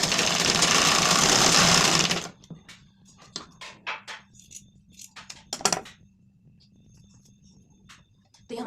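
A sewing machine runs in a fast, loud burst while stitching a tassel for a blouse, then stops abruptly, followed by scattered small clicks and handling taps of the fabric and tools.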